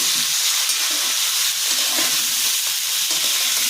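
Spices tempering in hot oil for a Bengali shukto, with fried vegetables in the pan, give a dense, continuous, close sizzle that stays loud and even from start to finish.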